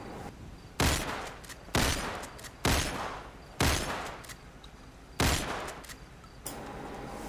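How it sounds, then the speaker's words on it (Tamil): Six loud gunshots ring out at irregular intervals in a GTA 5 video game, each a sharp broadband crack trailing into a short decay, fired at a wolf with no talk over them. "அந்த உல்ஃபை சுட்டுட்டேன்"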